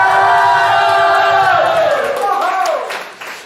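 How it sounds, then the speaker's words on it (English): A festival crowd roars and cheers for the crew, loud and close, with whoops and some clapping that swell and then fade away over a few seconds. "So a big cheer for all the crew."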